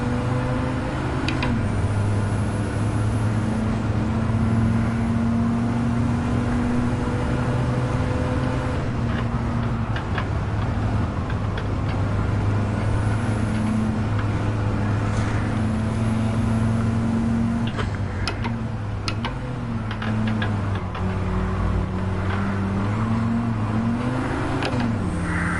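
Race car engines in Gran Turismo 7 with an Aston Martin and a Ferrari, loud sustained droning and revving with shifting pitch through gear changes, several cars running close together.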